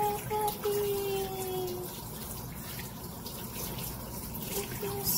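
Shower water runs steadily while a dog is washed at home, a continuous hiss and splash with brief tonal squeaks near the start.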